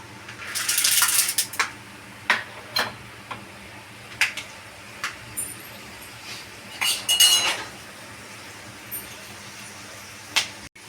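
Peanuts and chana dal frying in a pan, with scattered metallic clinks and scrapes of a stirring spoon against the pan over a low, steady background, with no talk.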